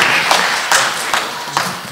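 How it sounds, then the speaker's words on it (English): Church congregation clapping during a Sunday service, a crowd's applause with rhythmic surges of clapping, roughly four clear beats over steady clatter. "Give the Lord a clap offering."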